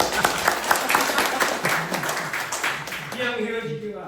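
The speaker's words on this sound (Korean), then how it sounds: "박수 한번 더 칩시다." Audience applause at a Korean training course graduation ceremony, continuous and moderately loud clapping that thins out near the end as a voice begins speaking.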